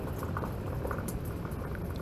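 Steady rushing and gurgling of water streaming out of a corrugated drain pipe, continuous and fairly close, with a bubbling, churning texture and no voices.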